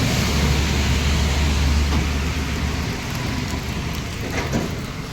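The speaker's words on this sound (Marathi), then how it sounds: "पावसाचं वातावरण आहे आणि पाऊस पडतो आहे रिमझिम रिमझिम" Steady, soft monsoon drizzle patters continuously, blended with a low rumbling hum like an idling vehicle underneath.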